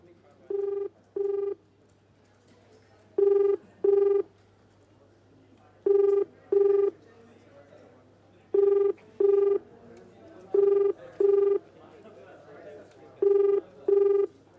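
Electronic phone ringback tone in Uttar Pradesh, India repeating in pairs of beeps at steady intervals, with a low hum and faint background murmur between rings, while calling police officials.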